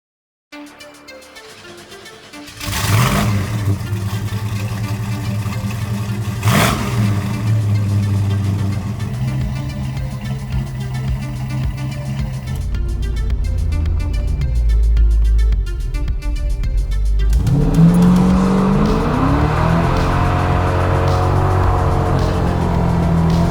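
Classic car engine revs hard and hits the rev limiter, loud and close, with sharp rising sweeps, repeated cutoff stutters and a throaty idle between bursts.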